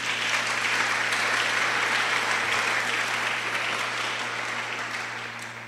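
Church congregation applauding at a Pentecost service, a steady wash of clapping from many hands that holds even and loud, then eases slightly toward the end, with a low constant hum beneath.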